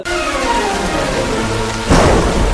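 Heavy rain pours steadily as thunder rolls and then cracks loudly near the end, no voices present.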